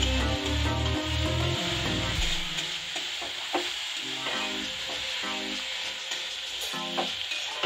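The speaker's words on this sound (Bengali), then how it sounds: "পেঁপেটাও একটু ভাজা ভাজা হয়ে গেছে" Papaya pieces frying in a pan sizzle steadily while being stirred, with scraping and clattering in the first seconds and occasional light knocks, no talking.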